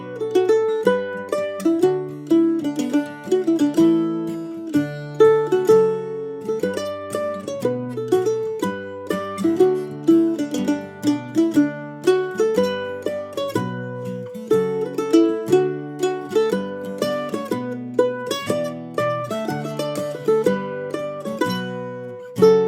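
Mandolin plays a Scottish strathspey tune alone, a steady stream of bright plucked notes with a lilting, dotted rhythm, close and clear throughout.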